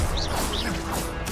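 An Incendio fire spell cast in Hogwarts Legacy: a brief burst of whooshing, crackling magic with sweeping tones, dense and fairly loud, ending in a sharper flare.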